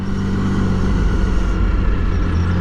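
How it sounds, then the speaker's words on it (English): A Triumph Sprint ST 1050 sport-touring motorcycle with a lowered setup runs its exhaust as a loud, steady, low engine drone throughout, close and continuous without talk. "this exhaust is unreal"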